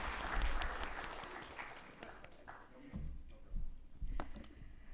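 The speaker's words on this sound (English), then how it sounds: "once again, please give a huge round of applause for his wonderful speech" Conference audience applauds after a speech at an IT sales event, a full burst of clapping that thins out and then swells again in scattered waves.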